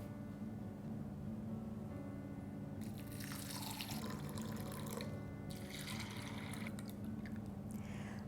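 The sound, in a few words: water poured over soaking beans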